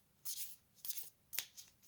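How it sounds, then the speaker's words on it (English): Small Rose Pocket Oracle cards are shuffled close by in four quick, crisp riffling bursts separated by short pauses, quiet and papery with no talking. "You can see they shuffle really, really nice."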